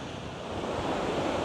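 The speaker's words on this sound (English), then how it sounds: "amazing ocean here." Ocean waves break in a steady, loud wash of surf at Ocean Beach in San Francisco, with wind buffeting the microphone throughout.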